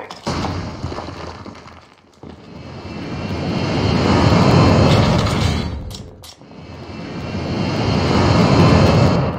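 Aircraft engine roar in the video game COD Mobile, a loud, close drone that swells and fades in long waves, cut by two brief dips in sound. No one speaks.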